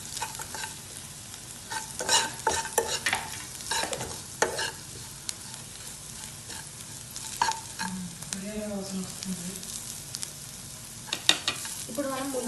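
Chili powder and spices fry in a pan for egg dum biryani, a continuous close sizzle punctuated by repeated spatula scrapes and clacks, with brief bits of background voice or tonal sound near the end.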